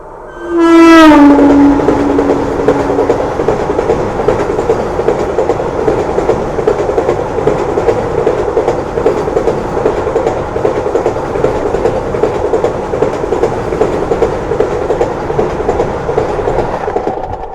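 A Vande Bharat train blasts its horn loudly up close, then thunders past with a sustained roar and rhythmic wheel clatter lasting many seconds, no voices.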